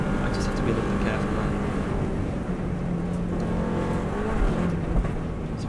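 A Subaru WRX STI at full power on the Isle of Man road course, powering through the bottom of Bray Hill. Engine roar and wind rush are continuous and loud throughout, with talk over the top.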